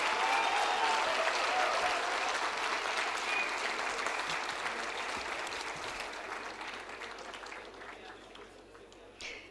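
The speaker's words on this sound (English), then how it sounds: "May we have a huge round of applause for Mr." A large convocation audience in Mumbai applauds a distinguished alumnus award, a dense, steady wash of clapping that slowly thins and fades toward the end, with no talk over it.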